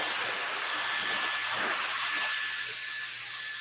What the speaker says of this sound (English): that's what I love about this blow dryer